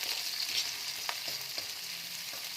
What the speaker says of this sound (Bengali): আর এর মধ্যে আমি অল্প একটুখানি পেঁয়াজ দিয়ে দিলাম, আর স্প্রিং অনিয়নের সাদা অংশটা আমি দিয়ে দিলাম।